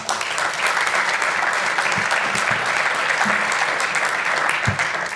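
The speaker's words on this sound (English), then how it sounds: "how about a nice round of applause for John?" An audience applauds a veteran decorated with the Silver Star at a school event, sustained dense clapping at a steady level from start to finish, with a few sharper individual claps standing out.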